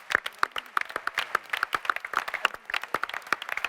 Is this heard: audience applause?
yes